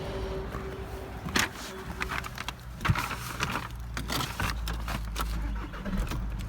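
A VW Passat B7 engine starts and settles into a low, steady idle rumble, accompanied by scattered clicks and handling noises nearby; no speech is heard.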